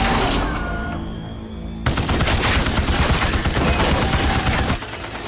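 Sustained machine gun fire from a horror film scene, a dense burst of rapid shots filling the middle of the clip after a quieter opening, then cutting off abruptly near the end.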